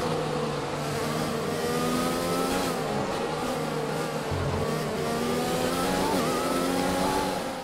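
F1 race car engines in the F1 2020 video game wail steadily throughout, with several cars' high-pitched engine notes rising and falling together as they jostle through a corner, loud and continuous with no talking.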